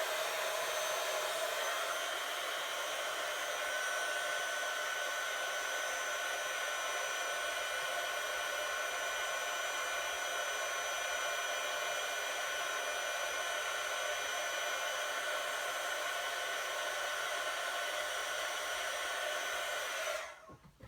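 Heat tool blowing steadily while melting embossing powder on a stamped card: a loud, even, hissy whir of fan and heating element running continuously for about twenty seconds before switching off.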